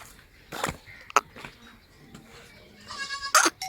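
A goat bleats in an enclosure, a couple of nasal, wavering cries standing out over faint background clatter and distant voices.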